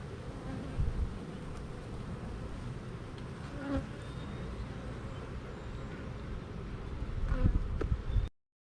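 Honey bees buzz steadily around an open hive during a hive inspection, a dense, continuous drone that swells near the end, with faint handling noises.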